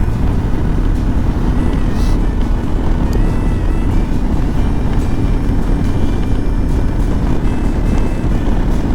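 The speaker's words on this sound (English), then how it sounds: "There you go, Mike and JP on the RCMP Harleys." Steady loud engine roar from RCMP Harley-Davidson police motorcycles riding in a group with a City of Saskatoon Police BMW, a continuous rumbling drone with wind noise throughout and no clear breaks.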